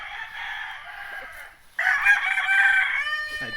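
A yellow-legged broodcock crows close by, giving two loud, strained crowing calls in quick succession with a brief gap between them.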